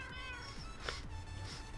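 Cats in Minecraft give several soft, faint meows spaced across the stretch, with a more distinct one in the middle, over quiet game background.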